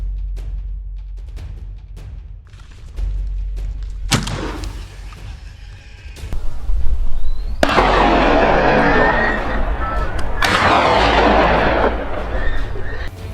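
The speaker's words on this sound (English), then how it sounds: "I pulled the trigger repeatedly" Repeated gunshots fired at a wild boar outdoors in winter, heard as a series of loud booming blasts and bursts that grow denser and louder in the second half, with no talk.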